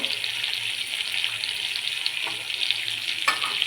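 Onions and green chilies fry in a pan with ginger and garlic, making a loud, steady sizzle with small crackles and a few stirring scrapes. No one speaks.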